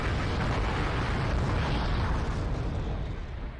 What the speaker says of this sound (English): More artillery now coming in from myself and one of my allies.